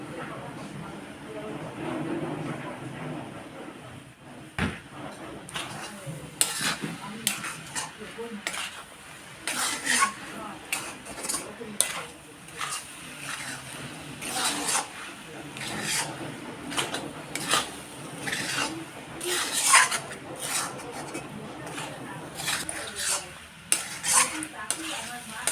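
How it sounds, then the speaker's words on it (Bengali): A white coconut mixture with melted sugar and added milk powder is stirred in a pan over a medium flame for narkel naru, producing repeated close scraping and rubbing strokes of a utensil against the pan. "আবারও আমি 2 মিনিটের মতো নাড়াচাড়া করে নেব।"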